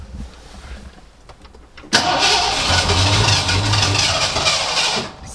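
An old van's engine cranks and turns over close by, a loud sustained churning roar that lasts several seconds after a quieter opening, sputtering as if nearly catching.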